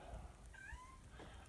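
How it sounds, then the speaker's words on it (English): A mother cat on a farm gives a soft, rising meow and a second short cry, faint and close, against quiet outdoor background with low thumps. "don't know what she's meowing about"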